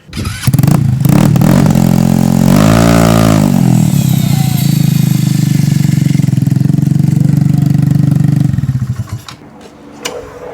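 A slammed sixth-generation Honda Accord's engine revving loudly up close, a rough steady drone with a sharp rise early on, then settling before cutting off near the end.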